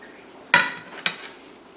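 Two short metallic clinks and scrapes as a slotted spoon scoops cooked potatoes and carrots out of a pressure cooker of corned beef and cabbage, close and fairly quiet in a still kitchen.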